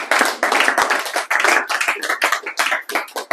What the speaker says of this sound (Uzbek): Qarsak.